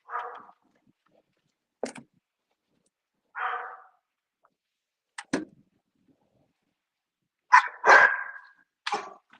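A dog barks in scattered single and double barks, some sharp and clipped, with silent pauses between them.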